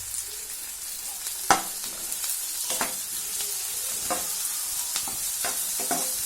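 Onion sautéing in a pan with crushed ginger and garlic added, a steady close sizzle broken by occasional spatula scrapes and stirring taps, with no talking.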